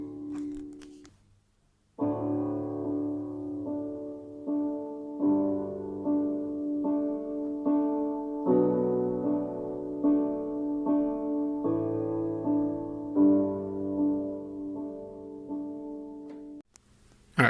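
Piano playing the opening chords of a song, soft and close, with a steady sequence of sustained, gently repeated chords that ring out and end abruptly.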